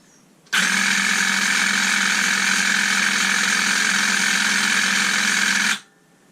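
Bosch 14.4 V hedge trimmer, converted from NiCd to Li-Ion, runs its motor at a steady high-pitched whine for about five seconds, starting abruptly and cutting off at the end, close and loud with no talking.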